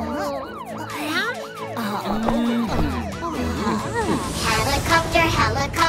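A cartoonish ambulance siren in a children's cartoon wails in rising and falling sweeps, with lively music and voices around it; a second, higher burst of sweeping tones comes near the end.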